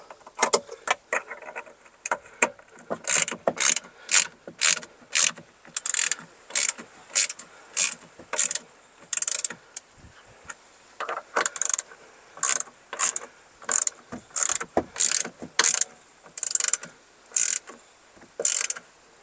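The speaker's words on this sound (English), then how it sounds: "We're just gonna go ahead and ratchet them back in now." A hand ratchet drives screws back into a 2018-2025 Jeep Wrangler JL side view mirror, giving close, loud bursts of rapid clicking that repeat in a steady stop-start rhythm with short pauses between strokes.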